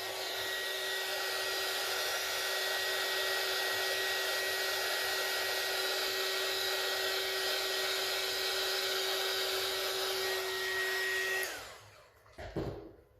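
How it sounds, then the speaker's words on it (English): A heat gun drying a polymer clay piece for a batik-style bracelet, a loud steady blowing whoosh with a high whine that runs unbroken for over eleven seconds before cutting off abruptly, followed by brief handling noise. "So I'm gonna use my heat gun real quick just to dry it up a little bit."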